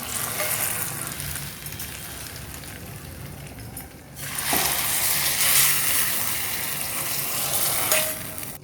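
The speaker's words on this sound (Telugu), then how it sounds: "పోపు వేగిపోయింది, గోంగూరలో వేసేసుకోవాలి" A tempering of curry leaves crackles in hot oil, then erupts into a loud, hissing sizzle as it is tipped into cooked gongura for a spicy prawn curry, with a faint clink near the end.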